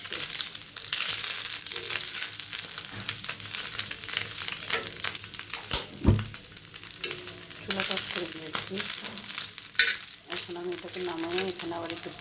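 Onion frying lightly in mustard oil in a pan, a steady close sizzle with crackling and occasional stirring clinks, continuing throughout under faint background voices.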